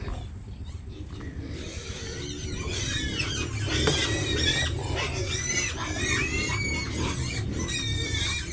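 Pigs on a farm squealing loudly and continuously at feeding time, many high piercing cries overlapping over a steady low rumble of grunting and movement, with a person's voice faintly underneath.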